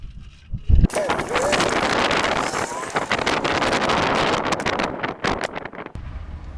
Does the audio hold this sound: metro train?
no